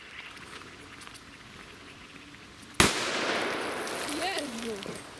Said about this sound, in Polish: Te w wodzie to chyba lepiej te petardy buchają.